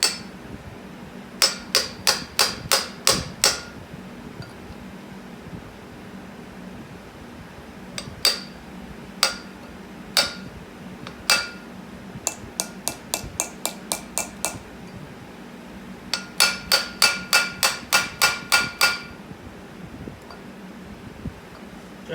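Repeated metallic hammer blows drive a dust seal onto a Ford Ranger 2WD front wheel hub through a slightly undersized socket, in fast bursts of sharp ringing taps separated by short pauses, close and loud with no talk.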